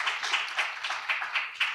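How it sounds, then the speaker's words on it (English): A small literary festival audience claps briefly for a panelist's remark, a thin, sparse patter of a few hands with individual claps standing out, fairly quiet and fading quickly. "I think round of applause for that."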